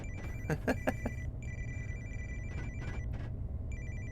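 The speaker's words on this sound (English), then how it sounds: "God, that phone's still ringing" Telephone bell ringing in a railway cab simulator scenario on the East Coast Main Line from York to Newcastle, repeated bursts of a steady electronic ring sounding over a low rumbling engine drone, with brief pauses between rings.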